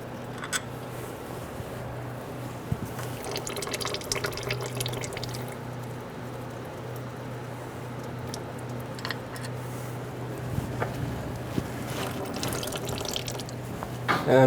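Fluid draining from a 2003-2008 Honda Pilot engine as the water pump is removed, a steady faint trickle with scattered drips over a low background hum, no voices.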